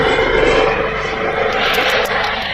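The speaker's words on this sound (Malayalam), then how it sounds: "ഹെലികോപ്റ്റർ വരുന്നുണ്ട് ഹെലികോപ്റ്റർ പോണതാണ്" A helicopter passes overhead above forest on the Pulmedu route to Sabarimala, a loud, continuous engine drone with a throbbing low rumble that fills the whole moment.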